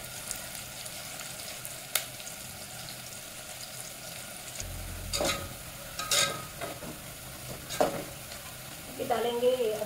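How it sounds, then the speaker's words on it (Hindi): Onions frying and browning in a pan for a chicken curry, with a steady quiet sizzle and a few scraping stirs and clinks spread through, no talk. "प्याज को अच्छी तरह से ब्राउन होने देंगे।"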